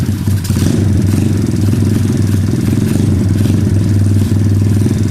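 TaoTao DBX1 140cc pit bike engine running on choke, a loud, close, uneven idle with rough chugging and a few revs, no talking over it.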